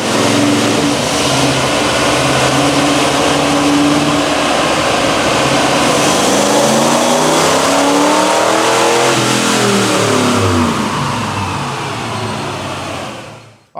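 A 1995 Ford Lightning pickup with a 351 Windsor V8 and 151,000 miles runs on a chassis dyno, its engine roaring loud and close as it climbs steadily in pitch through a full pull, then cuts off abruptly at the end.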